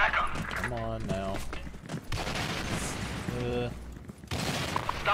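Gunfire in the shooter game Soldier Front 2, a mix of distant crackling shots and heavier reports under a busy combat soundscape, with radio-style voice callouts cutting in twice.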